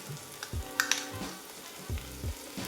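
Garlic, ginger and red curry paste sizzle in a hot pan for Thai curry meatballs, a steady frying hiss broken by a few soft scraping stirs, close and moderately quiet, with no talking.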